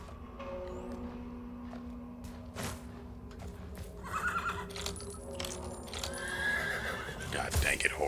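A horse neighs and whinnies in the video game Weird West, with clip-clopping hooves alongside, all set against in-game ambience and background sounds.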